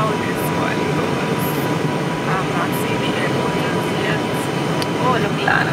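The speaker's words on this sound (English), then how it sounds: "So we are about to land" Caribbean Airlines airliner coming in to land on the runway, a steady loud broadband cabin roar of engines and airflow that persists throughout, with people talking over it.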